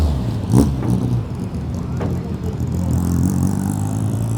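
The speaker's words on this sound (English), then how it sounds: "Auto Bianchi 112 being moved out along with a sofa." An Autobianchi 112 car's engine hums steadily close by as it is moved, with a faint rolling rumble and background noise.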